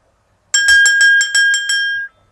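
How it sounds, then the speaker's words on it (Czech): A small bell rings rapidly in a quick run of about eight bright, clear strikes, close and loud, before fading out. "sem a tam se ozvalo nějaké to zacínkání zvonečků"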